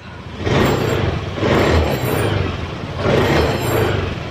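Honda Scoopy automatic scooter engine revved in repeated bursts, three rising surges of throttle over a rough idle, loud and close.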